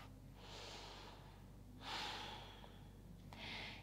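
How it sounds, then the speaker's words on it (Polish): Slow, deep breaths during a vinyasa yoga session, three soft airy inhales and exhales close to the microphone in a quiet room. "Kilka głębokich oddechów."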